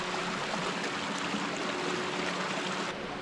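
Gurgling, rushing stream water in the Black Forest, a steady broadband wash of flowing water that holds close and even throughout, with no voices.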